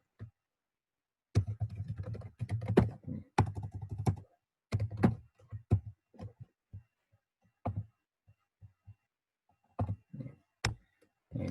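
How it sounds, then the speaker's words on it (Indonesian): Keys clack on a computer keyboard in uneven bursts, quick taps clustered together with short gaps between, close and fairly quiet, no talk. "Nah, ini kita bisa ngetik sesuatu."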